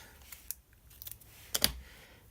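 Scissors snip through a strip of marble-patterned washi tape, giving a few quiet, crisp cuts with one sharper double snip near the end, close and alone without talking.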